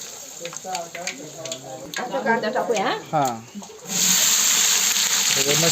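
Chopped vegetables hit a hot pan already holding cumin and bay leaf for veg pulao, a loud sizzle bursting up after someone talks over soft background sounds, then frying steadily.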